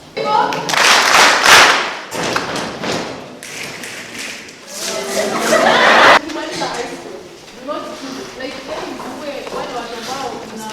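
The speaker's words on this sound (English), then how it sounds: "I want us to appreciate her with a very special clap." Audience at a talk show event on activism gives a rhythmic, patterned special clap in bursts, with loud claps, thuds and pauses between rounds, mixed with voices and cheering.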